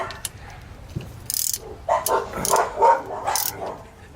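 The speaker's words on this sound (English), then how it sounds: "Fucking neighbor's dogs, man." Neighbouring dogs bark in a scattered series of sharp, mid-distance woofs, loudest toward the end, over a low background hum and some faint clicking.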